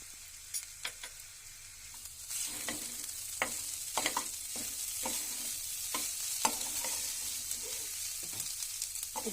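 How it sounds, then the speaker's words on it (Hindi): Dry daliya being stirred as it fries in a pan over a low flame, with a steady soft sizzle and repeated scraping stir strokes close by, no talking. "लो फ्लेम पर इस तरह से फ्राई करेंगे।"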